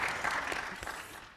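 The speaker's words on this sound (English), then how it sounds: "Can we give a round of applause for being a new dad first?" A brief patter of audience clapping for a new dad at a Summer Davos climate-finance panel session, fading out quickly over little more than a second.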